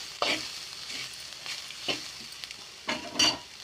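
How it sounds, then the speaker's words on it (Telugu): Ivy gourd, crisp and well fried, sizzles softly in a pan while a spoon stirs it now and then, making brief scraping bursts over a quiet, steady crackle. "చూడండి బాగా ఫ్రై అయిపోయింది"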